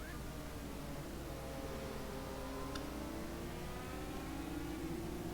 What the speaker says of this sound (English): Romero hoping he's got a lot of power in that disposal of that Ford engine.